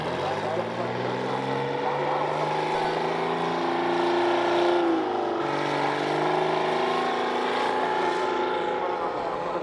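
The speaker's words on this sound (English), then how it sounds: "There's a dump truck." A dump truck engine roaring at full throttle during an Illinois truck pull, a loud sustained mechanical drone with harmonics that dip and rise as the revs shift, with an announcer's voice faintly beneath.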